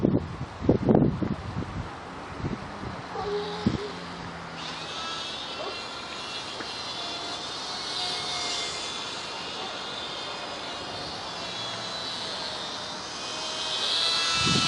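A WLToys Cessna-182 F949 three-channel RC plane flies in high wind, its small electric motor giving a steady, moderately loud whine that swells and fades over wind buffeting, with a few loud handling knocks near the start.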